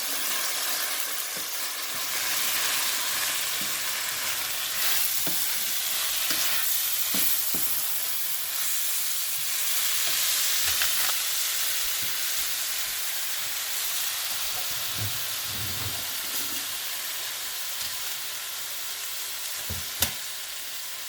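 Egg and banana sizzling and being stirred in a hot pan while making prawn fried rice, a steady close frying hiss with scattered scraping stir strokes and a sharp clink near the end.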